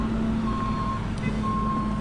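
A lorry being loaded on a farm near Mansfield sounds its reversing alarm, a steady series of evenly spaced electronic beeps over a constant low engine rumble, with no talking.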